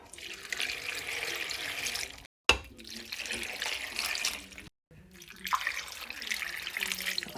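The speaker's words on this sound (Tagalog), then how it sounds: "lagyan na natin ng sabaw" Broth is poured into a pot of zucchini, pumpkin and leek vegetable soup, a close splashing, gurgling stream in three spells broken by brief silences.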